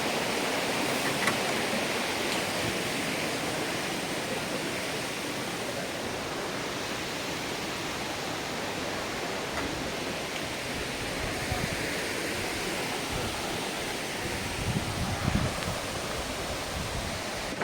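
Daranak Falls pours in a constant broad rushing roar of falling water, steady and enveloping for the whole stretch, with faint background activity and no clear talk.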